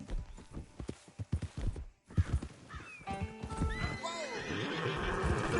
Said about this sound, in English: Control your horse, Arthur.